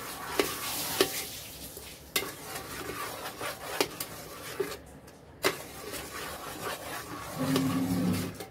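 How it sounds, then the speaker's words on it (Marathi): A spoon stirs chicken masala through a frying mix in a pan for Hyderabadi spinach butter chicken, with repeated scraping strokes over a soft, steady sizzle and no talking. "आता हे छान परत आपण हलवून घेऊया मस्त."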